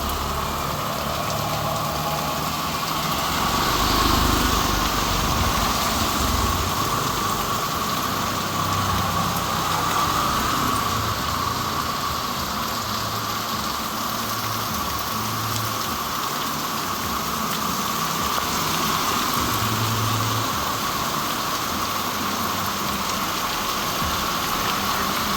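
Heavy sudden rain pours down in Jaffna, a loud, steady wash of rainfall hammering surfaces throughout, with a low engine rumble underneath.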